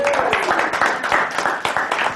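Seminar audience clapping, a dense, steady patter of many hands filling a room, with speech mixed in over the applause.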